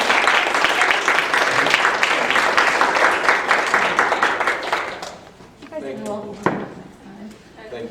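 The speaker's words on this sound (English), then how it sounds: "Please give a round of applause." An audience at an art therapy association gathering applauds with dense, steady clapping for about five seconds, which then fades out and gives way to a few scattered knocks and a person beginning to speak.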